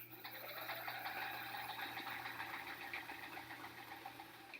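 Domestic sewing machine stitching pieced improv quilt blocks, a steady continuous mechanical whir with rapid needle clatter running throughout at close range, no talking.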